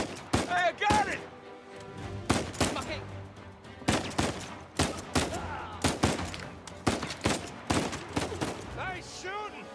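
Gunfire in the Uncharted 4 video game rings out as repeated sharp shots and short bursts spread across the span, loud and punchy, with voices talking between the volleys.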